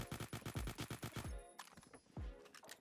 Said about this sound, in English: I'm not gonna stop shooting.